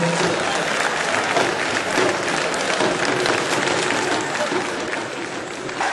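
Loud, dense applause and cheering from a large crowd at a candidacy declaration rally for Abdoulaye Bio Tchané, sustained steadily throughout with voices mixed into the roar.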